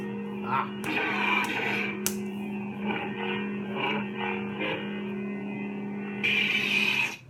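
A Saberforge Rahm Kota custom lightsaber with a neopixel blade powers up, then settles into a loud steady electronic hum. Swing swells and clashing crackles rise over it.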